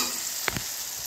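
Lote shutki, a dried fish, frying in a pan, giving a faint steady sizzle with two quick soft clatters near the middle of a very short moment.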